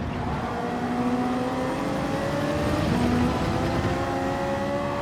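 Race car engine in the video game Gran Turismo 7 on PS5: a steady, loud droning engine note that rises gradually in pitch, held close behind another car, with no talk.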